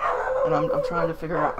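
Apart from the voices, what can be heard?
dogs barking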